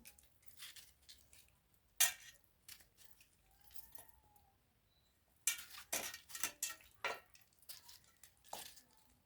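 Ripe tomatoes chopped with a knife for homemade tomato pickle in a home kitchen: a single sharp chop, a quiet pause, then a rapid run of close, crisp chops.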